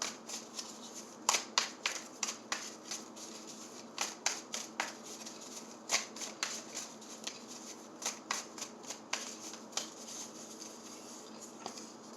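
Fortuna playing cards being shuffled and drawn for a Gemini tarot-style reading: repeated soft, papery riffles and taps in quick irregular bursts, close and fairly quiet, with no talking.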